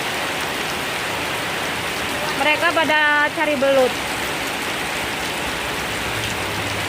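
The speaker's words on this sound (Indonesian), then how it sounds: "Tuh, hujan semuanya." Heavy rain pours down in a steady, dense hiss across the whole clip, loud and close. A voice speaks briefly partway through, heard over the downpour.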